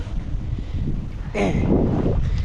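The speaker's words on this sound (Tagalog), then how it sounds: "Ang ganda po yung panahon ngayon. Hindi mainit. At mahangin po siya." Steady wind buffeting the microphone outdoors, rumbling low and loud, with a stronger gust midway.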